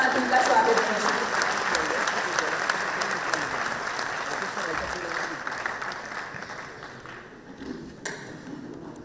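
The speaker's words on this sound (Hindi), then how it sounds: "जोरदार तालियों के साथ उनका स्वागत कीजिए" Sustained applause from a large crowd at a youth spiritual summit in Varanasi, loud and steady at first, then gradually thinning out toward the end, with faint voices underneath.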